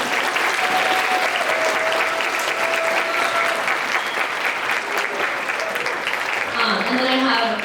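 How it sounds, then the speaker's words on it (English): Sustained audience applause at an AAU Night Market 2024 gathering, a dense, steady roar of many hands clapping loudly throughout, with some cheering voices rising near the end. "Can we give them another round of applause?"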